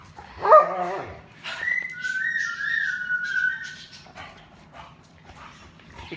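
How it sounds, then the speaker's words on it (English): A puppy whimpers in high, thin whines, with a brief louder yelp at the start and quieter whimpers trailing off near the end. "I like cute puppies."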